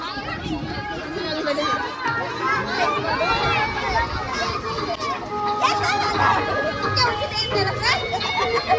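A dense crowd mills around at a village fair on its second day, with continuous chatter, children's voices and close talking all layered into a constant busy hubbub.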